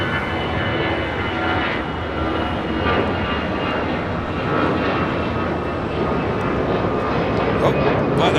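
Airliner takes off from runway 25 right at LAX, a steady loud roar of engines that fills the air, with people talking underneath.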